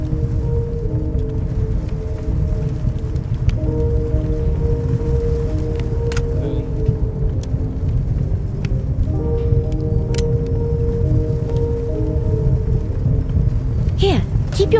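Stormy weather in the game Resil Game: The Perils of Man, with steady rain hiss and low thunder rumble running throughout, while soft music tones sit on top and a few short clicks cut through.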